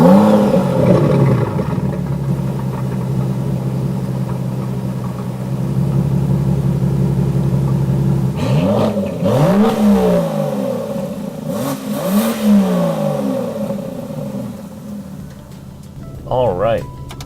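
A 2017 Aston Martin DB11 engine idles and hums, then revs in several rising and falling sweeps as the car pulls away and drives off, loud and close, with a person talking over parts of it.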